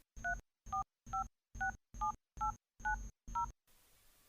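A mobile phone keypad being dialed in a Hindi domestic drama scene: eight evenly spaced two-tone beeps, close and clear, with nobody talking, then a quiet pause.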